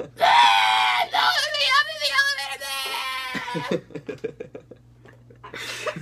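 A man imitates a five-year-old child screaming at him over a Battlefield game, belting out a long, loud, high shrill scream that breaks into shorter yelps and chuckling sounds, then fades into quieter noises.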